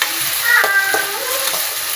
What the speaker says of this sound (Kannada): ಸ್ವಲ್ಪ ಈರುಳ್ಳಿ ಫ್ರೈ ಆದಮೇಲೆ ಹಸಿಮೆಣಸಿನ್ಕಾಯಿ ಹಾಕೊಳ್ಳಿ.